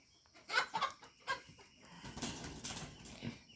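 Backyard chickens cluck in a garden pen, a few close, sharp clucks and squawks over soft rustling and a brief flutter of wings, fairly quiet, with no talk.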